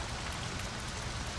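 Steady rain falls in the Saints Row 2 video game, a soft, even hiss of drops with no voices.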